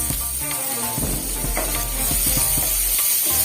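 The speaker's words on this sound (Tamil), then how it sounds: "வெங்காயம், கடலைப்பருப்பு இதெல்லாம் நல்லா வதங்கட்டும்" Onion, chana dal, curry leaves and green chilli sautéing in a pan, loud and close, with a constant hiss and a string of rhythmic spatula taps and scrapes as the mixture is stirred.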